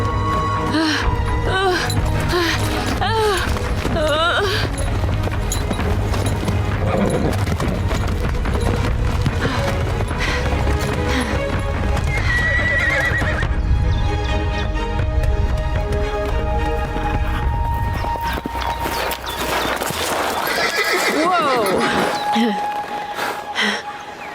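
Horse hooves clip-clopping in the Star Stable video game under game music, with whinnying and breathy horse sounds scattered through, staying fairly loud and close throughout.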